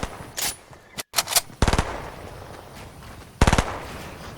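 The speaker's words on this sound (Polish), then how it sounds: "Tam ktoś strzela" Rapid automatic gunfire crackles in the Fortnite video game, with short rattling bursts and single shots scattered across a few seconds, then one loud burst near the end.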